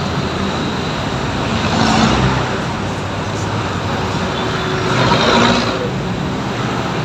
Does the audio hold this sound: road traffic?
yes